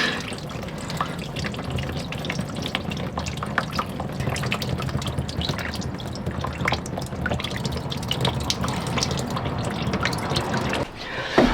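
Coolant spilling out of a Mustang engine during its extraction for a NASCAR-inspired build, a steady close splashing stream with scattered drips that runs continuously for over ten seconds before briefly dropping off near the end.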